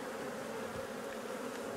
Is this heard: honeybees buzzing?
yes